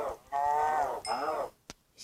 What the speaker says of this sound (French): j'ai entendu une vache